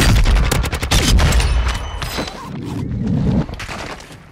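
Heavy gunfire in a shooter video game, a dense, loud barrage of rapid shots and impacts that thins into scattered bursts and then cuts off.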